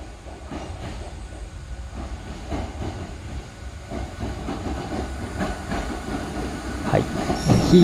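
Old, non-air-conditioned Hakone Tozan Railway train pulling into a station, a steady rumble of wheels and hiss with squealing wheels rising toward the end as it draws closer and louder.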